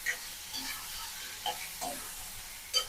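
Chicken frying in a roomy pan at home, a soft steady sizzle with occasional stirring scrapes and clinks, fairly quiet and close with no talking.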